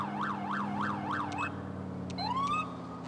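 Police car siren in the video game GTA 4 with the LCPDFR mod, a wailing siren rising and falling several times, then a short yelp sweep, over a steady engine hum.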